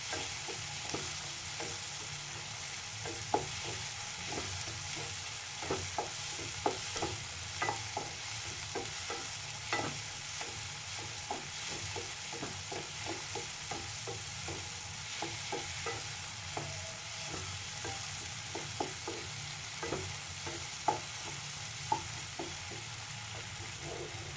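Tomatoes frying in a pan for pav bhaji, giving a steady, quiet hiss of sizzling broken by frequent soft clicks of a spatula stirring.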